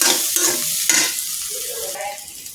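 Spiced potato filling for singara, with ground roasted cumin, sizzles in a pan while being stirred and scraped, giving close, intermittent scraping over a soft frying hiss.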